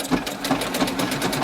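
A sewing machine stitches around a patchwork skirt's waistband, a fast steady mechanical rattle of needle strokes up close, running without pause and no voices.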